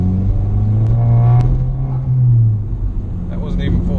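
A modified Saab 9-3 2.0 turbo engine rumbles deeply and swells as the car accelerates, with a low, steady drone that rises and eases over a few seconds from inside the car.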